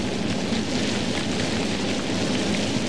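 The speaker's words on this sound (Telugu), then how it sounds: "ఈ వర్షం ఇవాళ ఆగే సూచన కనపడట్లేదండి" Heavy rain falls in an animated Tenali Raman folk tale scene, a steady dense roar of downpour with a low rumble underneath, constant and unbroken with no voices.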